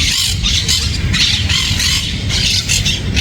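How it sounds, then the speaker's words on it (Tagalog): A parrot squawks repeatedly in a busy park, loud harsh calls in close bursts over a steady background of crowd noise. "Hello, parrot also."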